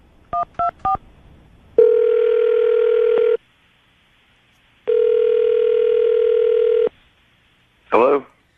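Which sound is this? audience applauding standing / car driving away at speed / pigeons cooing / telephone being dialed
telephone being dialed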